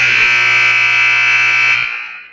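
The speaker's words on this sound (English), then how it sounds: "That buzzer. Yeah, right in our ears." A loud, sustained electronic buzzer at a wrestling match blares for about two seconds to end a period, then cuts off and fades away.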